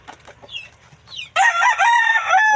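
Brood cock rooster crowing: after a second of soft clucking and background chatter, a loud, close, sustained crow rings out for over a second.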